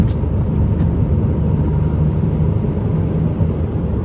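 Steady, loud road traffic on a city street, a continuous low rumble and whir of passing cars with no breaks and no talking.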